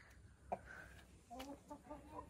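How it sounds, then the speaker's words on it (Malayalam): A chicken gives a few soft, short clucks in a quiet home yard, faint and somewhat distant, with a sharp tap near the start and a stretch of low background noise. "ദേ കോഴിയുണ്ട്"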